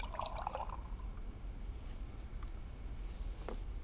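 Carpet cleaning detergent is poured into hot water, giving a faint, close trickle and splash that is strongest in the first second and then thins to quiet dribbles and drips.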